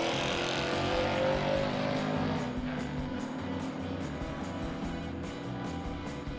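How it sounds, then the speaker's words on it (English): A loud, steady engine roar from a Nissan GT-R making a drag racing run, sustained throughout without any breaks. "check out this GTR making a run."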